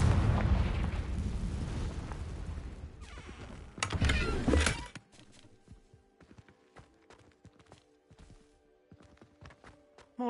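A Confringo spell explodes in Hogwarts Legacy, with a loud rumbling blast for about the first four seconds and a sharp burst near the fourth second. Fainter clicks and scattered debris sounds follow.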